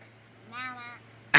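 A voice imitates a cat's meow: one short, drawn-out, tonal mew in a quiet room, followed by a sudden loud burst of noise at the very end.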